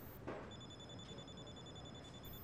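A telephone rings in a quiet room in a medical drama scene, a regular electronic trill repeating steadily and fairly faint, heard alone without talk.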